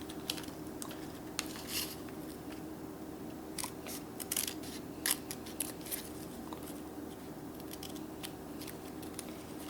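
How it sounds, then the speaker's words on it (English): Small scissors cutting a piece of material for a miniature oven interior, giving sharp, close snips in an irregular run over a steady low background hum, with no talking. "Alright, I'm gonna cut another piece."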